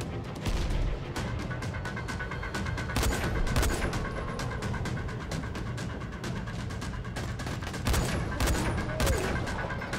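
Gunfire in the video game Dying Light: The Following rattles in dense, repeated bursts of sharp shots and booms, loud and close throughout, with a voice talking faintly underneath.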